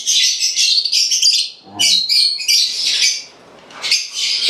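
Small birds chirp and tweet in quick bursts while a hen feeds her chicks nearby, the bright calls close and busy with brief pauses between clusters.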